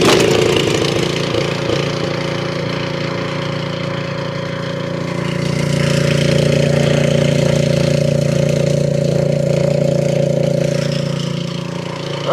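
A Toro snowblower engine that had trouble starting runs steadily at a loud, close idle with a constant droning hum and slight rises in pitch.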